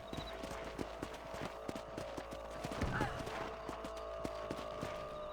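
Horse hooves in Red Dead Redemption clopping in a steady, fairly quick rhythm on a ranch, soft and slightly distant, with a low ambient hum underneath and a brief louder thump near the middle.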